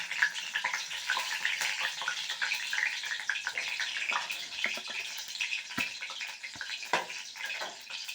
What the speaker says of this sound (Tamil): எண்ணெயில் போட்டு பொரித்து எடுத்து கொடுப்போம்